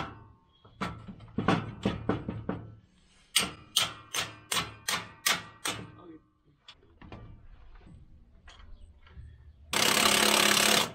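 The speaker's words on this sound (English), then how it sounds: "I'll grab a hammer." A hammer striking harvest machinery, a run of loud metallic blows in quick rhythmic series with pauses between groups, up close, ending in a burst of broadband noise.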